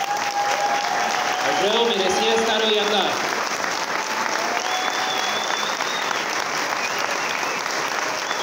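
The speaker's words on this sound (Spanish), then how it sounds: "quisiera que nos diéramos un espacio de un minuto para aplaudir" An audience at a theatre tribute event applauds strongly and continuously, dense clapping filling the space while someone speaks briefly over it early on.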